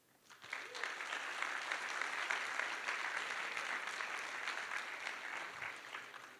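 A conference audience at an Ethereum cypherpunk congress fireside chat breaks into applause, clapping rising quickly and holding at an even, moderately loud level for several seconds before starting to thin out.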